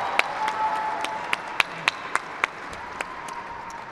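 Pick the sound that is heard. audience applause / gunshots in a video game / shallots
audience applause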